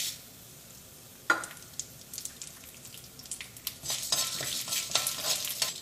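Chana dal and toor dal fry in a pan for Kerala sambar, with a sudden scrape of stirring followed by rising crackly sizzling and repeated close spoon scrapes.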